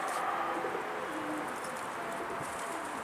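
Migrating birds call in the open during warming weather, giving soft cooing tones over steady outdoor background noise, continuous and fairly distant throughout.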